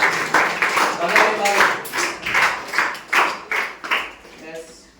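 Rhythmic group clapping from a quiz audience at a Ramayana rapid-questions quiz, a steady run of claps at close range that tapers off near the end, with some speech mixed in.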